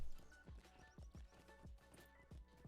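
Horse hooves in the video game The Lord of the Rings Online give a steady, rhythmic clip-clop of repeated hoofbeats at a moderate pace, fairly close and quiet, with no talk over them.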